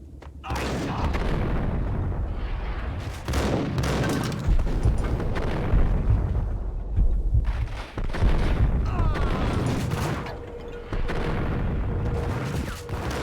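Gunfire and grenade blasts from the Max Payne video game, a continuous barrage of loud shots and booming explosions with brief lulls, a voice talking over parts of it.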